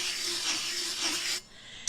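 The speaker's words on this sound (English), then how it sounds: "I take my sanding block and I go around the top and smooth it" A sanding block rubs around a tumbler rim in a steady, gritty rasp for over a second, then stops, followed by a faint click.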